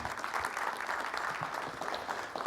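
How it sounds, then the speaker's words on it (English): Audience applause at a city ward community forum in Las Vegas, steady dense clapping from a seated crowd, moderately distant and even throughout. "Let's give him a big round of applause, everybody."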